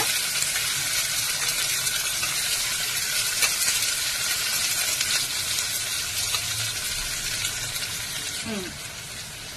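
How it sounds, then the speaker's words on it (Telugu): Curry leaves frying in a pan of oil for an Indian-style zucchini curry, giving a loud continuous crackling sizzle throughout with occasional faint stirring. "కరివేపాకు బాగా వేగనివ్వాలండి."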